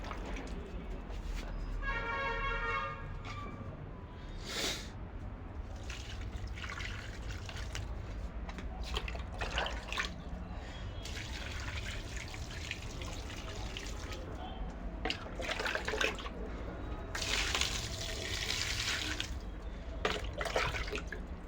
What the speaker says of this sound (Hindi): सबसे पहले पानी दे देता हूँ